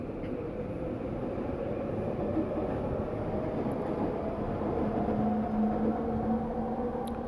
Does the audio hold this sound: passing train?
yes